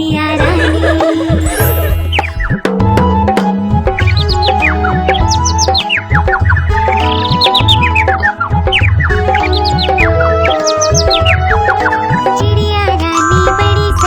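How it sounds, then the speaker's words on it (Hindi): Small bird chirps and tweets ring out repeatedly over a steady Hindi children's song with singing, bright rising call-like notes recurring throughout alongside tinkling music. "नित्य सवेरे दाना लाती, चू चू करके हमें जगाती"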